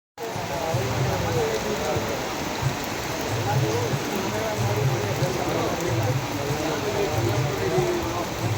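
Rain begins falling during a ride toward Penukonda Fort near the Karnataka–Andhra border, a dense, steady hiss of drops spreading evenly throughout, with a faint voice buried underneath.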